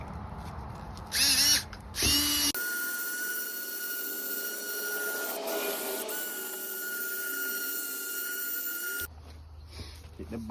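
A power drill runs steadily for several seconds, driving a sanding pad with 2000-grit paper across a car headlight. A loud, even whine with a slight wobble is framed by brief talk before and after.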